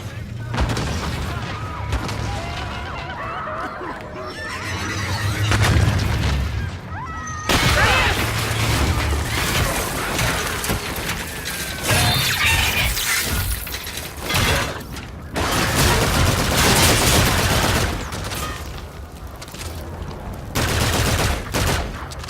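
Dense, loud gunfire fills a Call of Duty: Infinite Warfare battle, with rapid automatic bursts, sharp impacts and mechanical clatter running continuously, while voices call out over the shooting.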